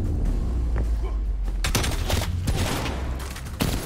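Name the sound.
gunfire in Call of Duty Cold War video game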